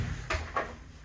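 Otis 2000 lift doors at a Birmingham department store give two quick, muffled thuds about a quarter second apart, close by over a steady low hum.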